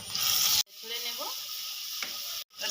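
Turmeric and spices sizzle in a hot pan while being stirred for a Bengali prawn and kochur loti dish, a close steady frying hiss with brief clinks and scraping, cut by short gaps.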